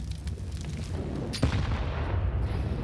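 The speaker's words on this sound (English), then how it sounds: "That is a devastating nade." A grenade blows up in a Counter-Strike match on Mirage, one sharp thump standing out midway over steady game ambience, with no talk.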